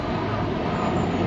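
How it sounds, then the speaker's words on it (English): An airplane passes overhead beside a pike fishing spot, a steady broad engine drone holding evenly loud across the short stretch with no voices. "excuse the plane"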